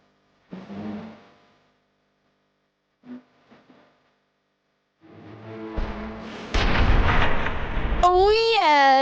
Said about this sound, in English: Oh yes! I'm missing these explosions.